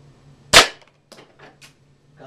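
An IZH Baikal 53m air pistol fires a single pellet with one sharp, close crack, followed by a few faint, brief knocks.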